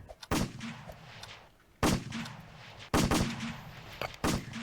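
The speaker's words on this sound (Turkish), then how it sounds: "Ya silah sıkıp duruyorlar." Guards firing guns in Roblox Squid Game, four loud, sharp gunshots spaced roughly a second apart, each fading quickly over a quiet background.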